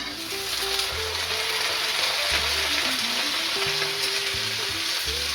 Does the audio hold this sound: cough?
no